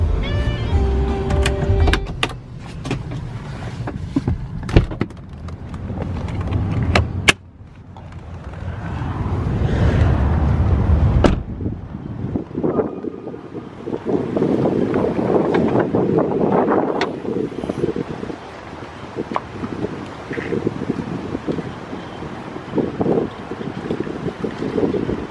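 After a few clicks and knocks inside the cabin, a 2009 BMW 328i Coupe's engine starts with a push-button crank and a rising surge, then settles into a steady, muffled idle that carries on to the end.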